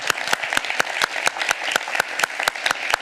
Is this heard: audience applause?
yes